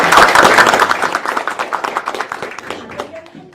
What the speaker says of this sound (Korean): 먼저 참석해 주신 분들을 소개해 드릴 때 환영의 박수 부탁드립니다